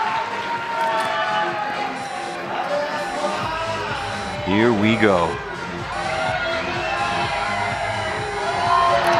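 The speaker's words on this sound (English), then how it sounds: "A little bump from the crowd." Crowd at a bouldering finals competition in Utrecht lifts into a brief cheering swell with whoops and shouts, under close commentary, then settles back to a steady murmur.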